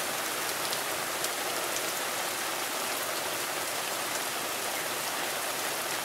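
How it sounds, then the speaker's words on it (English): Heavy rain from Tropical Storm Alberto pours down in a dense, steady hiss that does not let up, with no voices. "this is the strongest the rain has been since this whole ordeal started"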